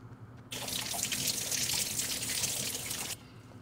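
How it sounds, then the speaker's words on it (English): Water runs hard from a tap, starting abruptly after a brief quiet moment, a loud steady rushing stream that holds for nearly three seconds and then cuts off sharply. "Water."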